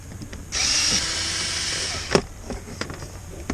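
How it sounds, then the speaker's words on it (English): A power drill whirs in a short high burst while undoing screws on a second-generation Nissan Xterra dashboard during a heater core install, followed by clinks and small taps of parts nearby. "There's 2 screws down there. I can undo those 2 down there."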